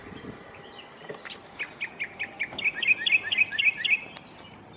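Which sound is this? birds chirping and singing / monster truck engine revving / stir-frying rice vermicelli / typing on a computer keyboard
birds chirping and singing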